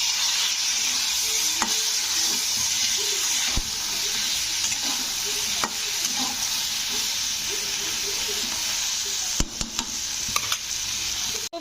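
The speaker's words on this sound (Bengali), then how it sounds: "তো দিয়ে এবারে ঢ্যাঁড়সগুলোকে একটু ভেজে নেবো।" Sliced okra fries in hot oil with salt and turmeric. A steady, dense sizzle carries on throughout, and scattered clicks from stirring or tapping break through it. No one speaks.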